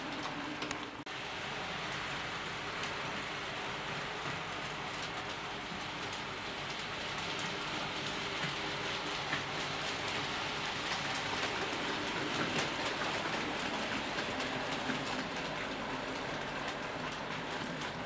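Bachmann Rapid Warship model diesel locomotive hauling Royal train coaches on a model railway, a continuous close rolling rumble and wheel clatter on track, steady throughout with faint ticking.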